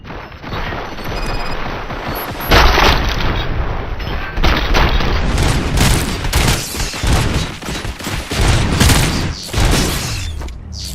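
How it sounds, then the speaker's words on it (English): Heavy sustained gunfire and booming impacts in RoboCop: Rogue City, loud and close, with dense overlapping shots and crashes continuing throughout. "Fire at will."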